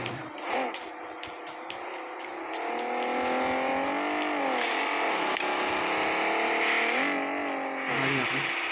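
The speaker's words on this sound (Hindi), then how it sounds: "गाड़ी आ गई।" A vehicle pulls up and its engine revs in the mobile battle royale game BGMI, a close, rising and falling motor whine with shifting pitch sweeps, mixed with game effects and possible background voices.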